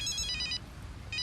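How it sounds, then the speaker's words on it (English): A mobile phone rings with a bright electronic ringtone, two short trilling bursts with a gap between them, close and clear over faint room noise. "that's my phone."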